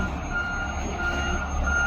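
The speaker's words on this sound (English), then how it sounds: "we'll fire up the skid loader and get this out of here before it hardens up" A skid loader idles steadily on a job site while its reversing alarm beeps in a continuous, even tone, close and fairly loud, with no talk over it.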